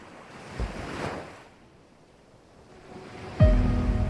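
Ocean waves wash around a boat heading out on the Sulu Sea toward a Boracay dive site, with gusting wind buffeting the microphone and a sudden loud thump of water near the end.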